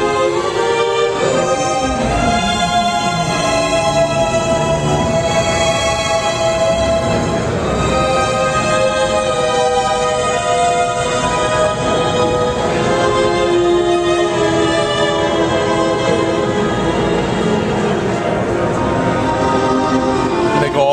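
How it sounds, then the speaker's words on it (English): Muted, sordino-played legato string samples from LA Scoring Strings swell in a smooth, sustained, silky line, loud and continuous with no voices. "you'll have these wonderful silky strings that sound like this"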